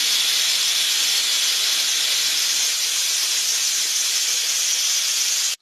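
Food frying in mustard oil in a home Bengali kitchen gives a loud, steady broadband hiss that holds unbroken for several seconds, with no talking over it.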